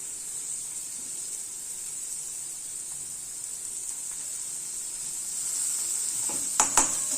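Paneer for bhurji sautéing in a pan makes a steady, fairly quiet high sizzle throughout, with a couple of sharper stirring clicks near the end.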